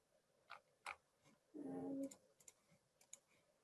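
A few sharp computer mouse clicks scattered through a quiet room while a contractor-side web tutorial is navigated, with one brief louder tonal blip midway.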